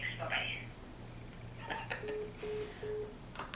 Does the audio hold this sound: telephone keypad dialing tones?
yes